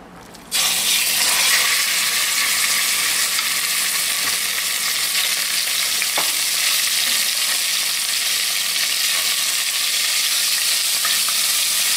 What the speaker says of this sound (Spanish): Agregamos un chorrito de aceite de oliva. Aquí vamos a sofreír la carne.